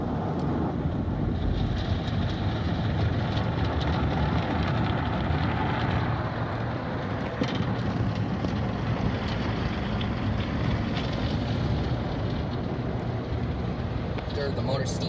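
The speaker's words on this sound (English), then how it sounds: "And here comes the top brush. Here comes the brushes to the side." Car wash tunnel brushes run in a steady, loud, continuous roar of spinning brushes and spraying water inside a MacNeil tunnel car wash, with no break throughout.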